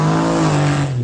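A 2007 Ram 2500 truck with a deleted, tuned 6.7 Cummins diesel engine and a massive turbo revs up close: a loud, sustained, deep droning roar held steady and heard alone.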